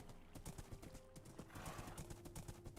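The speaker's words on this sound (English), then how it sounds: "This is a quick horse" Horse hooves in Minecraft, a quick rhythmic clip-clop of a fast horse galloping on the ground, with occasional whinnies mixed in, faint and steady throughout.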